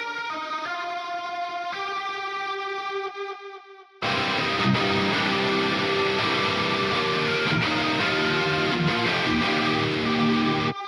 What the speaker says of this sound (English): Lastly, I have this lead guitar,